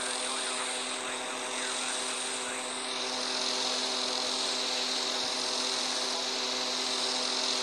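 A simulated airliner's engines heard from the cockpit in the game Airline Commander, a steady, loud, even drone with sustained tonal whine that continues unchanged throughout.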